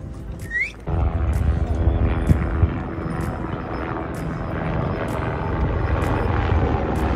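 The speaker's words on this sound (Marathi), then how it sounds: "असं हेलिकॉप्टर चालत असताना" A helicopter on the Amarnath Yatra route thunders close and loud with a steady rotor roar that starts abruptly after a brief quieter moment, holding on without voices.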